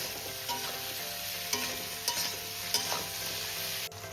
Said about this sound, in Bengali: এবার আমি এটা সব কিছুর সঙ্গে ভালো করে ফ্রাই করে নেব